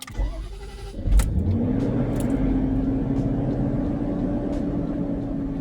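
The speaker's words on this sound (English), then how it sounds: "let's actually turn the truck on" A truck engine cranks briefly and catches, settling into a steady, close idle with a rising whine that levels off into a continuous hum.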